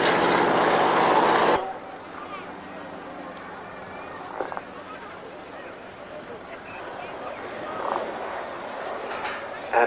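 A propeller aircraft at the 1996 Yeovil airshow roars loudly in a close pass, then cuts off abruptly, leaving a quieter open-air background with distant engine drone and faint crowd noise.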